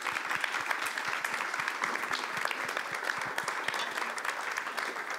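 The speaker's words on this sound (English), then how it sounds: "give them a very big applause." An evening audience gives the speakers a big, sustained round of applause, dense steady clapping from many hands that fills the room for several seconds with no voices over it.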